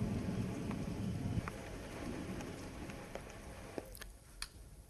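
Rain falls steadily during a thunderstorm in Bihar, India, with dense patter and rumbling low noise that eases after the opening seconds, followed by a few sharper isolated drops or cracks near the end.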